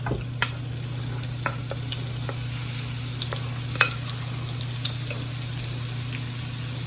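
Thinly sliced sweet and red onions cooking in a pot for French onion soup, a soft steady sizzle with occasional sharp spoon taps and clicks, a low hum running beneath.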